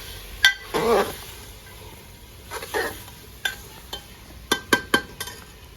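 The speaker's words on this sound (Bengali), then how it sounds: "পেঁয়াজে গিয়ে ভালো করে নাড়াচাড়া করে নিতে হবে" Onions are stirred in a frying pan, with a soft sizzle beneath a few sharp spoon-on-pan clinks and scrapes spaced irregularly, close and fairly loud, and no talking.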